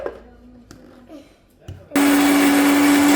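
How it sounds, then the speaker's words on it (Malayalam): After a few quiet clicks and clatters, an electric mixer grinder roars to life, a loud steady whine blending mango leaves to the end. "ഈ മിക്സിയിലിട്ട് അടിക്കാം."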